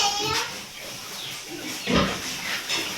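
Close pig grunts and snorts on a backyard piggery farm, with a louder squealing grunt near the middle, amid other farm voices and background noise.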